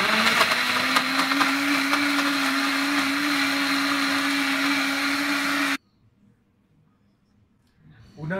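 Blender mixing an espresso drink with ice, cold milk, ice cream, dulce de leche and macadamia cookie, a loud steady whirring roar with a constant hum that cuts off sharply, followed by near silence and a brief rustle.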